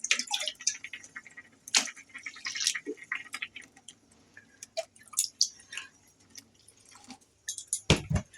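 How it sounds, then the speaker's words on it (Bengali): Water goes into rice cooking in a home kitchen: faint, scattered drips and small splashes, closing with one louder splash. "ভাতে একটু জল দিয়ে দিই।"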